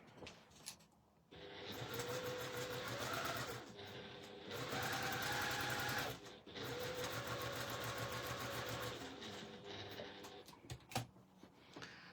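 Close sewing machine stitching around a zip in steady bursts with a motor hum, pausing briefly between runs and ending with a few clicks.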